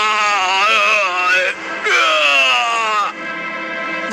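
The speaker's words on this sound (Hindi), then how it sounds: "कठमुंडू उनके छूते ही चीखने लगा।" A character in a Hindi horror story screams, two long, loud, wavering cries with a brief break between, followed by a lower sustained wail.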